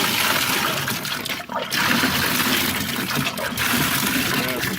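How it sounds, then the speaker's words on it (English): Loud rushing water gushing into a pail, a constant splashing roar with a couple of brief dips, heard up close. "You can see the water going in."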